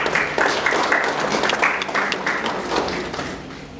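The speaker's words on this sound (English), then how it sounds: "I want you to clap your hands before I say this." A seminar audience claps together in a brief, dense burst of steady applause that holds its level before easing slightly.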